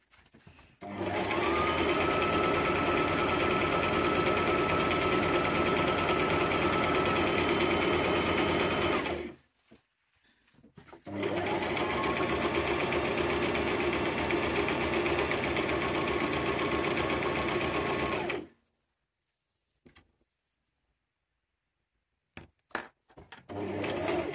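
A sewing machine runs steadily while stitching down the long edge of a fabric scrunchie-style ruffle hairband, whirring loud and close in two long runs of about eight seconds each, separated by a brief pause and followed by quiet.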